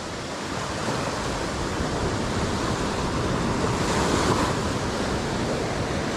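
Ocean surf rushes in a continuous, heavy wash, with wind buffeting the microphone and a wave swelling slightly louder toward the end.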